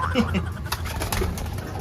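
Racing pigeons coo softly nearby while a person talks over them, with light rustling and flapping in the background.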